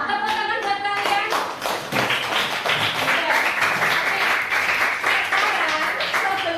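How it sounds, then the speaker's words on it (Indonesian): Primary schoolchildren clapping their hands together in a classroom coding lesson, dense rapid claps continuing steadily for several seconds, with a voice speaking over the start. "Wah, tepuk tangan buat kalian."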